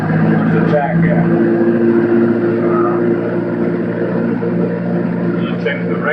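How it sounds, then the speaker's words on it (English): A light aircraft's piston engine holds a steady droning run-up to 1700 RPM for a magneto check at Kent State Airport, loud and constant, with a person talking over it. "Now I'm going to do a magneto check. I'll run the engine up to 1700 RPM."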